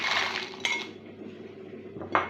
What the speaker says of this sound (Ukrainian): Все це я перемішую.